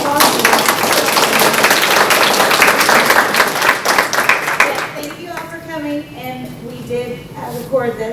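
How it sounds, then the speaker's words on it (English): An audience at a parent education presentation claps in a dense burst of applause that fades after about five seconds, giving way to voices and children talking. "Big applause."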